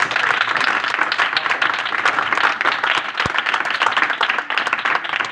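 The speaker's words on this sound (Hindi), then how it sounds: "और इनके उस्ताद विशाल के लिए एक बार उससे भी ज्यादा जोरदार ताली" A crowd at a Christian ministry gathering applauds the teacher of four brothers, a thick, continuous wash of many hands clapping at full volume, unbroken for several seconds.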